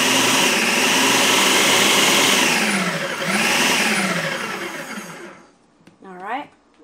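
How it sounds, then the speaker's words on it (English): A Ninja Professional food processor pulses bread dough ingredients with salt, running as a loud, steady whirring motor for about five seconds before winding down, followed by a brief rising whir and a short clatter. "just turn it on and hit pulse really quick just to mix it"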